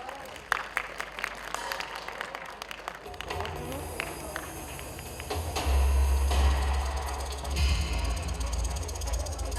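Audience applauding an award winner for women's empowerment at a red carpet awards show, scattered claps swelling into fuller applause with a low booming music or hall rumble underneath.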